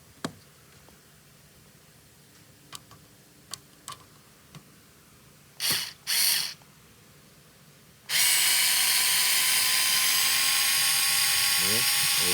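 An Alloyman 4V electric screwdriver whirs continuously and loudly, backing screws out of an old radio's case, after a few clicks and short buzzes of handling and testing.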